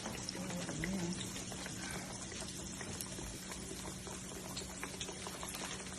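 Fish pieces fry in bubbling oil in pans, giving a steady close sizzle and crackle with a low hum underneath throughout.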